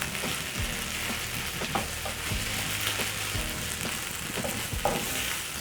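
Onions cook in a pan with a little sugar for caramelizing, giving a low, even sizzle broken by repeated scraping strokes from stirring, and no one speaks.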